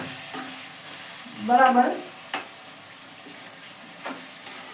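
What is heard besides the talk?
stirring spinach, potato and tomato curry in a pan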